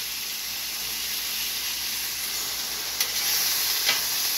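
Pineapple slices sizzle on a hot Steelmade USA flat top griddle, a steady close hiss with a couple of brief louder spits near the end and no talking.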